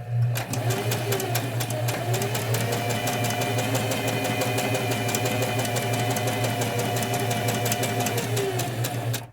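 A domestic sewing machine stitches steadily for about nine seconds, a loud, continuous mechanical whir with fast needle clatter, running forward, then briefly reversing and stitching backward as a seam is locked at the start of practice sewing.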